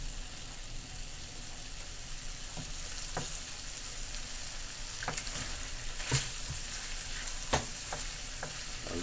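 Coconut milk is poured into a sizzling shrimp curry, giving a soft steady frying hiss with scattered light clicks of a utensil against the pan.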